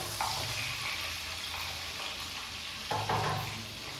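Sliced onions dropped into hot oil with chillies while goat tripe curry is being made, giving a steady frying sizzle with a sharper burst of sizzling near the end. No one speaks.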